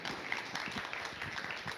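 An audience gives a short burst of applause to welcome a speaker, Caterine, at a talk on the Colombian Congress, with steady mid-distance clapping throughout.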